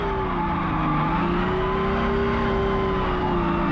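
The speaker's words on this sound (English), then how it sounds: "This is a Toyota Supra, by the way." A Toyota Supra runs on a track with a continuous loud engine drone, rising and falling slightly in pitch with faint tire noise, alone without talk.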